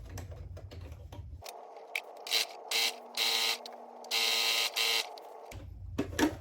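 Sewing machine stitching the crotch seam of men's plaid fabric pants, running in short mechanical bursts of a second or so with pauses between, fairly close and clear, no talking.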